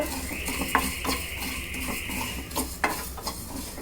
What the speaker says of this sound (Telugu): ధనియాలు మూడు చెంచాలు ఆవాలు ఒక చెంచా మెంతులు హాఫ్ టీ స్పూన్ జీలకర్ర వన్ టీ స్పూన్ ఇవి వేసుకొని వేయించుకోవాలి